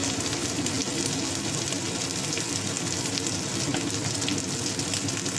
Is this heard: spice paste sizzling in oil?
yes